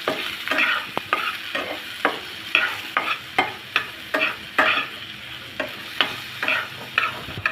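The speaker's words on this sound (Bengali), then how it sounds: "সামান্য একটু হলুদের গুঁড়া আর সামান্য একটু লবণ দিয়ে আলুটা ভালো করে ভেজে নেব।" Potatoes with turmeric and salt frying in a pan, heard as a close sizzle with regular, rhythmic scraping strokes of a spatula, roughly two per second, each stroke briefly louder.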